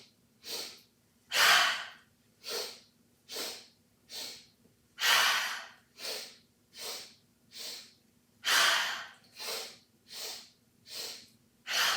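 Quick, rhythmic yoga breathing with sharp, forceful breaths close to the microphone. About seventeen short bursts repeat steadily over twelve seconds, with no talking.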